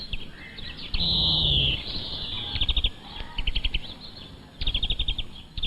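Wild forest birds call close by in a 1970s woodland setting: one sustained whistled note, then bursts of quick repeated chirps in several rapid clusters, with no voices.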